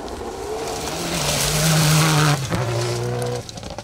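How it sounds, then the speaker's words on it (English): Subaru Impreza four-wheel-drive rally car on a Woodpecker Stages Rally special stage, its engine roaring loud and close as it passes, tyres squealing, then the note drops away abruptly as it moves off. "It's another Impreza."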